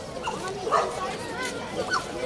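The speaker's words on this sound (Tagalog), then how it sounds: "Nagkalat po ang mga aso." Several dogs bark and yip intermittently amid a noisy outdoor crowd at a city hall dog walk event, with people talking throughout and short whimpering cries between the barks.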